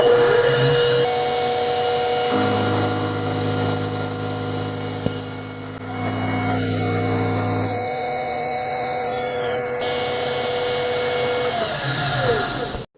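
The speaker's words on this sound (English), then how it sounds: "I've got the top end of the rod chucked up in the mill, and I'm going to take off 50 thou" A milling machine cutting a flat on a metal rod for a bike pannier strut, giving a loud, continuous mechanical whine and grinding hum with tonal shifts as the cut changes, running the whole time.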